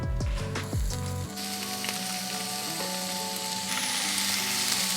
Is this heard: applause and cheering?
no